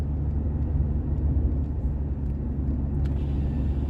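A Mk2 Golf GTI 16v hatchback engine hums at a steady cruise on a dual carriageway, deep rumble and road noise constant and close, no voices, just the even drone of motorway driving.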